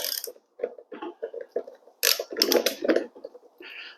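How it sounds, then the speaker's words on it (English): A wrench works a stuck bolt on the locked-up drive wheel of a self-propelled lawn mower, giving close, intermittent bursts of metallic clicking, scraping and grinding in short uneven spurts with brief pauses between. "now on this side, we're going to go ahead and take the bolt off"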